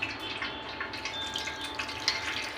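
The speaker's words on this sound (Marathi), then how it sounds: "यामध्ये आपल्याला थोडे थंड पाणी टाकायचं आहे" Cold water is poured over lemon-curdled chhena being drained for a milk cake. It makes a soft, steady splashing trickle that stays fairly quiet throughout, with no voices.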